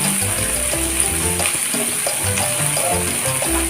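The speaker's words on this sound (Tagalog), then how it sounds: "Ang una nating igisa ay ang crab kasi matagal siyang maluto kaysa sa shrimp and mussel." Crab sautéing in a pan for a seafood boil, giving a steady, loud sizzle and hiss throughout with faint clinks and stirring underneath, close up and without voices.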